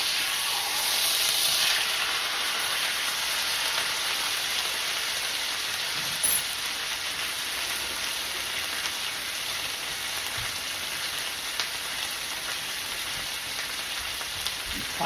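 A pot roast searing in a hot pan on a stovetop, a continuous close sizzle full of tiny pops and spatters that holds steady throughout with no speech.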